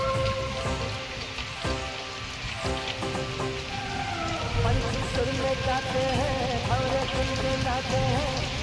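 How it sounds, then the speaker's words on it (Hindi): Heavy rain pours onto a rooftop in a dense, steady patter that stays loud throughout, while tonal music plays faintly in the background. "तो देखिए बारिश कितनी तीव्र हो चुकी है"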